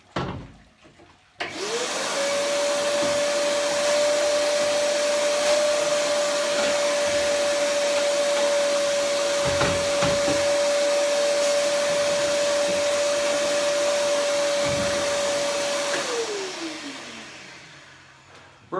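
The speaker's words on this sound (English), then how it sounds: "The purpose of the vacuum is to pull out the moisture in the screen." A steady, loud vacuum motor whine runs continuously for about fifteen seconds, pulling moisture from a screen-printing screen, starting abruptly and winding down at the end, with no talking.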